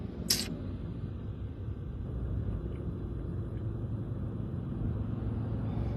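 A single truck's engine rumbles low and steady as it maneuvers to turn in a tight spot, a continuous close drone with a brief sharp click near the start and no voices.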